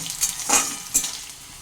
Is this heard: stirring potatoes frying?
yes